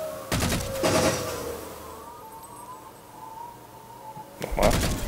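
Gunfire in the video game Halo 4, two short bursts of shots about four seconds apart with a quieter stretch of game ambience between them.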